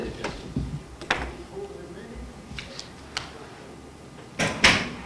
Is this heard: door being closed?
yes